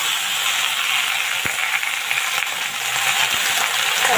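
Tender data shak (amaranth) stems and young leaves frying in hot oil, giving a steady, close sizzle that fills the whole clip, with a few faint clinks of a utensil.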